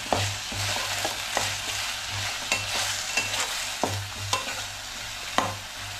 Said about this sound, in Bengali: যত পরিমাণ লাল হওয়া পর্যন্ত ভাজতে ভাজতে দেখবো সুন্দর একটা বাদামি কালার আসবে